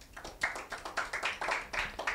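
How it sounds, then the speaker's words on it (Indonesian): A church congregation claps at a Sunday worship service, quick, fairly even beats a little distant, with no talk over them. "Tepuk tangan buat Yesus"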